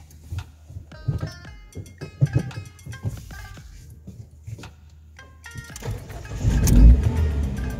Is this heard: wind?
no